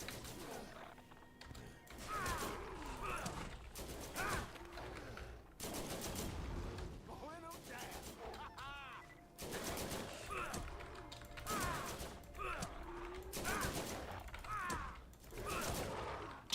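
An automated turret fires in the video game Borderlands, with repeated bursts of fairly faint, rapid mechanical gunfire separated by brief pauses.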